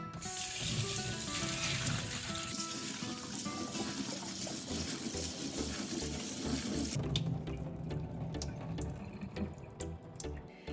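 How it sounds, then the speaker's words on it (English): Tap water runs into a sink while toor dal lentils are washed, a steady loud splashing stream with sloshing and dripping, then clearer trickles and drips near the end. "Then wash in hot water."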